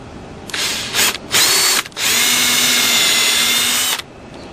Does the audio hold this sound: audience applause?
no